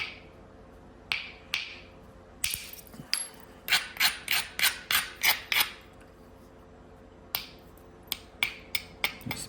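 A stone preform is beveled along its edge with sharp, crisp knapping clicks, some single and some in quick clustered runs, near and distinct over a quiet background.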